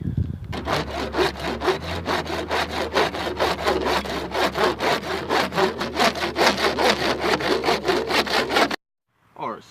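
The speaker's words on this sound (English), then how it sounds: "work on sawing these marks and getting pieces of PVC" A hand saw rasps back and forth through plastic pipe in a fast, steady rhythm of strokes, close by, then stops abruptly.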